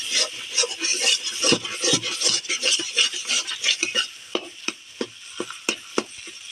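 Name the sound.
stirring banana flower curry with cumin and garam masala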